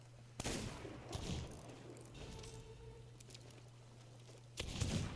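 Gunshots fired at the Kraken's tentacles in the pirate video game Sea of Thieves, a sharp shot at the start and another near the end, with softer thuds between over a low steady hum.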